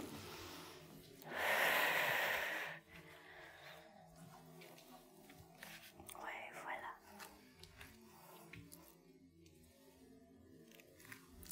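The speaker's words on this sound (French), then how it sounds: "On va prendre quelques grandes respirations ici." Deep breathing during a gentle yoga session for breast cancer, with one long, loud breath near the start and softer breaths after it, close and quiet under a calm background.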